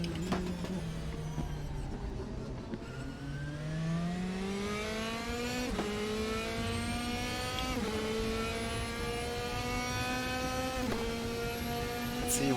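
A Mercedes race car engine in the RaceRoom racing game holds a steady, buzzing drone that climbs in pitch through several gear shifts, running continuously with no talk over it.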